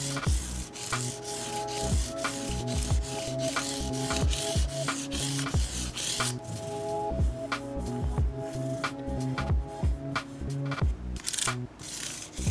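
A Jackson Dinky electric guitar being sanded by hand with 1000 grit sandpaper: close, continuous back-and-forth rubbing strokes in a steady rhythm, with no one talking.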